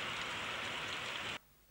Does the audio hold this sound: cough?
no